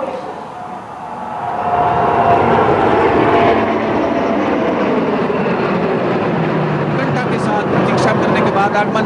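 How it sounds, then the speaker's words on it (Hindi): A P-8I and two MiG-29 military jets flying in formation over a Republic Day parade, a loud roaring drone that swells after the first seconds and holds steady, with a commentator talking over it. "आगमन होता हुआ P-81 विमान को 2 अन्य MiG-29 विमानों के साथ हम देख सकते हैं पोसाइडन फॉर्मेशन में।"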